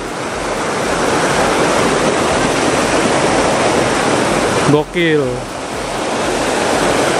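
Steady broadband roar of a river rushing from the Curug Sawer waterfall at Situ Gunung, Sukabumi, fills the whole clip, loud and close, with a brief spoken exclamation partway through.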